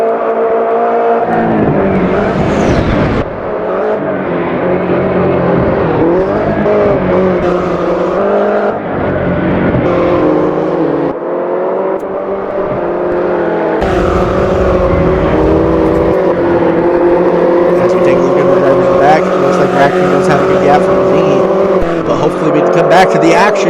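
JCW Mini race cars in a racing video game battling around the Bathurst circuit, engines droning loudly and continuously with shifting pitch as the cars accelerate and brake, a commentator talking over the engines throughout.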